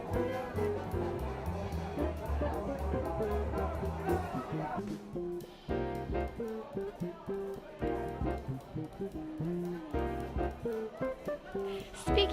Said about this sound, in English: As it gets darker, more and more people crowd in to the Dubliner Irish pub.